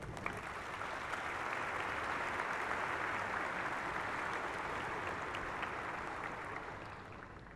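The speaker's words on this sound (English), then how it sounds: "With a round of applause," A graduating class at an afternoon undergraduate fall commencement applauds its faculty and staff, sustained dense clapping from a large crowd that holds steady for several seconds, then tapers slightly at the end.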